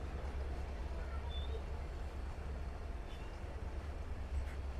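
A train pulls out of Parbatipur railway junction with a steady, low rumbling roar that holds evenly throughout, without clear individual clacks.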